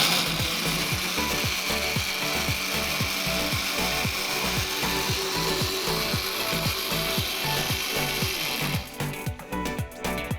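A kitchen blender whirs through a nutty protein smoothie with a rhythmic, ratcheting mechanical churn for about nine seconds before slowing and stopping.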